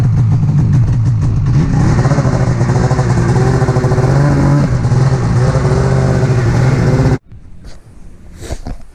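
A Can-Am engine cold-starting, running loud and close with a steady mid-pitched idle and rising revs for about seven seconds, then cutting off abruptly into quiet room noise.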